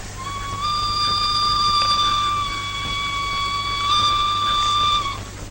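A toy train set's whistle in a film sounds as a steady, high, multi-tone shrill blast held for about five seconds, bright and loud over a low rumble.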